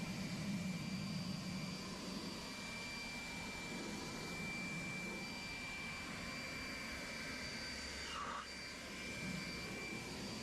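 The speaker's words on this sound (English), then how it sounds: "We're going to get it started with the leaf blower" Outdoors, a leaf blower dries a freshly rinsed tire with a steady whooshing roar of air. It stays constant and fairly close, dipping briefly once near the end, with no talking.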